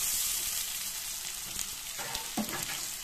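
Pointed gourd and potatoes fry lightly in a pan with ghee, a soft continuous sizzle close by, with stirring scrapes toward the end.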